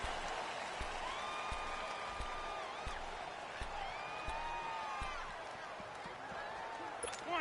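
A loud home-field stadium crowd roars steadily through an Eagles vs Broncos NFL football game, a dense continuous wash of cheering and noise with a few sharp pops.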